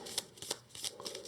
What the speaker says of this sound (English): So first we'll shuffle these.